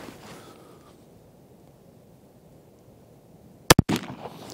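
Fair Iside EM shotgun firing a 36 gram load of number 5 and 7 shot outdoors, one loud sharp blast with a quick echo after a quiet stretch.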